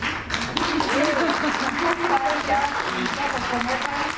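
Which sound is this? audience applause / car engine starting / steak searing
audience applause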